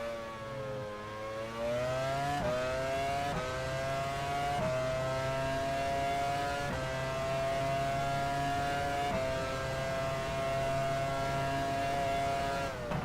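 A Peugeot-engined Formula One car screams at high revs in F1 Challenge 99-02 during the 2000 Brazilian Grand Prix, its sustained engine note stepping through several quick gear shifts, close and loud.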